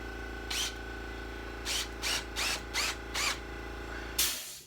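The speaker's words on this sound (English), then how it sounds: "put a screw in it from the bottom" A power driver sets a screw from below into a wooden table saw crosscut sled, giving six short whirring bursts at close range over a steady workshop hum, with a clunk at the end.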